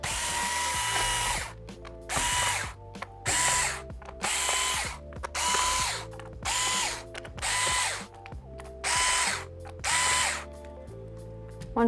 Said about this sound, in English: So you just want to take out the screws in the bottom cover.